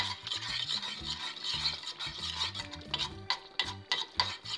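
Sweet red paprika stirred into fully melted butter in a small pan, heard as repeated close scraping strokes of a utensil over a soft frying hiss, with no talking.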